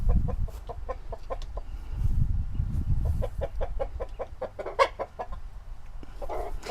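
Chickens cluck in a backyard garden beside a chicken coop, a steady scatter of short, close clucks over low rumbling background noise, with no talking.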